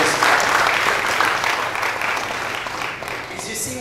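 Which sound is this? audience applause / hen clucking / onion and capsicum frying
audience applause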